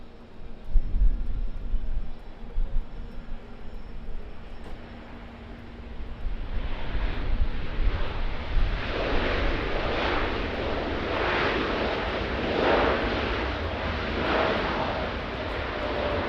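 Air New Zealand flight 146, a jet, comes in to land at Auckland Airport: faint distant engine noise at first, growing into a louder rushing roar with rhythmic pulsing surges in the second half.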